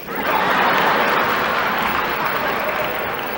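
A crowd claps loudly during a speech about American politics, a dense burst of applause with some scattered chuckles underneath, sustained and close for a few seconds before easing slightly.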